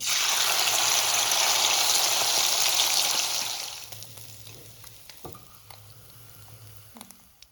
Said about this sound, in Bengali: এবার আমি গরম তেলে মাথাগুলোকে ভেজে নেব।